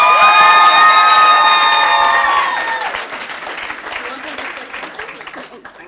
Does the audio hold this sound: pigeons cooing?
no